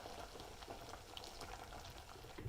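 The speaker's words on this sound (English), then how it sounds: "So what we can do is boil the tofu. Just put the hot water" Hot water simmers and bubbles over tofu in a pot, a soft continuous bubbling and gurgling at low volume, with no voices.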